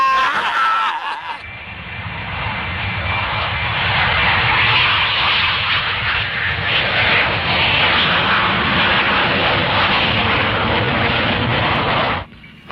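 Aircraft engine drone inside a plane cabin, a loud steady roar that swells in after a brief quieter moment and holds evenly before cutting off abruptly at the end.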